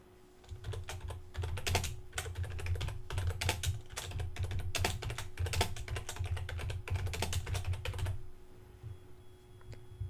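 Quick, continuous typing on a computer keyboard as a title is entered, with many close, crisp keystrokes in irregular bursts over a low steady hum, ending in quiet after about eight seconds, with no speech.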